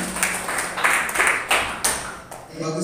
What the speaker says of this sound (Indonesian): Berikan tepuk tangan untuk Lutfi